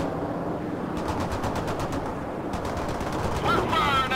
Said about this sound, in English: We're firing at the target right now.